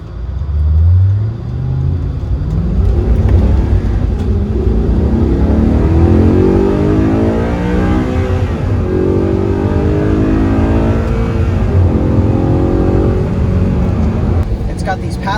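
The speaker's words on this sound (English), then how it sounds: "I love hearing that V8 roar behind me when I drive it." A 2009 Audi R8 mid-engine V8 rumbles and roars while driving on the road in Florida, a loud, continuous engine drone that swells and shifts in pitch as it accelerates, with a voice talking over it.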